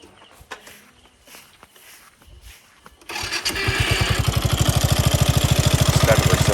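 A Nepali-made buggy car engine starts after some quiet handling sounds, catching abruptly and settling into a loud, fast, even chugging idle close by.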